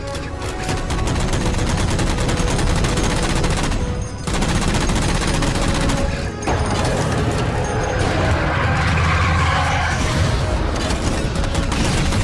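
Sustained heavy gunfire in the Halo 4 game as jammers are shot down, dense rapid automatic bursts with booming impacts, loud and nearly continuous, briefly dropping out twice.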